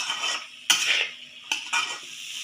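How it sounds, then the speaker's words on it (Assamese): Rajma kidney beans fry over high heat in a pan, a steady sizzle punctuated by the scrape and clink of a spoon stirring against the metal, with no voices. "এতিয়া এনেদৰে মই 5 মিনিটমান সময় ভাজি থাকিম"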